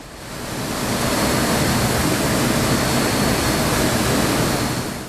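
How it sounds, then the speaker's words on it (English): A dense, constant rushing hiss of air injected into wastewater in a treatment plant grit channel, bubbling loud and steady like a broad torrent, swelling in and fading slightly at the end. "The sound you hear is air, injected into the flow to prevent any lighter organic solids from being removed"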